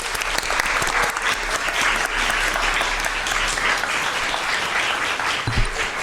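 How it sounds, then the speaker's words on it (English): Steady round of applause from a board meeting audience in a school district governing board session, dense clapping held evenly for about six seconds with no talk over it. "if we could just give them a round of applause"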